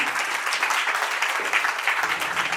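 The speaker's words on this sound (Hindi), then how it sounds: "एक बार जोरदार तालियां हो जाए साहिल के लिए" Audience applause at a corporate rewards and recognition program as Sahil comes on stage, a dense, fairly loud burst of clapping lasting under three seconds.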